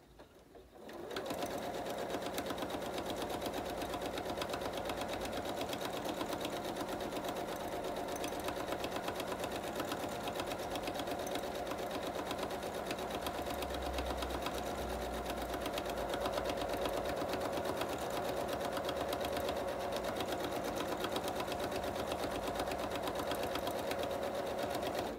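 Sewing machine stitching steadily at medium speed during quilting, a continuous even whirring hum held close and loud for the whole stretch with no talk over it.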